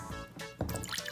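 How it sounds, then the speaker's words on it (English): Water poured into a container during a gummy worm osmosis kitchen experiment, a short faint splash and trickle with dripping. "now I'm going to pour in the water"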